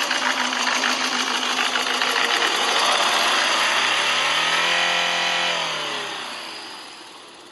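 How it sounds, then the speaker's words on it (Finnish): A Mercedes OM604 diesel engine with an engine fault runs loud and close, a steady rough drone that rises in pitch like a rev around the middle, then settles and fades toward the end. "Siltä on täällä moottorihäiriötä vähän."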